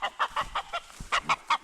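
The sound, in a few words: chicken clucking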